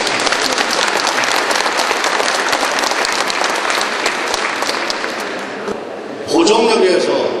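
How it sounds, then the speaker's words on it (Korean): A large crowd claps loudly and continuously at a ceremony opening a subway line extension. The dense applause fades near the end, and a voice then takes over. "박수 한번 크게 탁드립니다"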